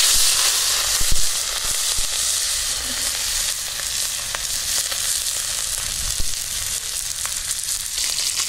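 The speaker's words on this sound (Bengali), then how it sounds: "লবণ আর হলুদ দিয়ে মাছটাকে ভেজে নিচ্ছি।" Shrimp seasoned with salt and turmeric fry in hot oil, a loud constant sizzle with occasional pops and stirring scrapes, close up and with no one talking.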